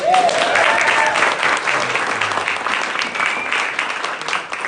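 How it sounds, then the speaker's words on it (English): An audience at a Latino Victory political event in Central Florida breaks into steady, sustained applause, a dense wash of clapping filling the room with a few voices mixed in. "Let's give them a round of applause."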